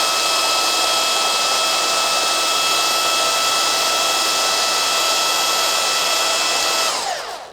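Craftsman V20 brushless cordless belt sander running free, a loud steady whirring whine held for several seconds, then spinning down as it is switched off.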